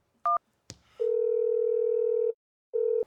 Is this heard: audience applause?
no